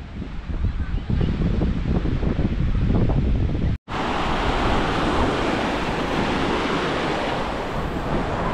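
Sea waves roll onto a sunny Agadir beach in Morocco, a constant loud wash of surf mixed with gusty wind buffeting the microphone, cut by one brief dropout partway through.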